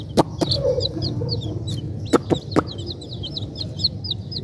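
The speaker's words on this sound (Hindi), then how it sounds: "ये देखें सारे चूजे आ गए" Chickens and chicks on a farm, with loud close clucks and squawks mixed with continuous high peeping from many chicks throughout.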